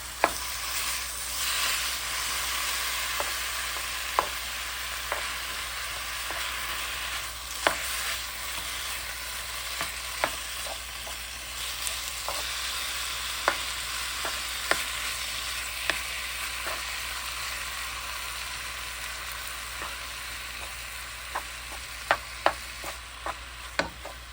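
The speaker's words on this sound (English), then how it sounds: "So now, we'll go ahead and let this steak cook." Steak sizzling in a pan for a teriyaki steak dish, a soft steady fry with scattered small pops and crackles, fairly quiet and uninterrupted.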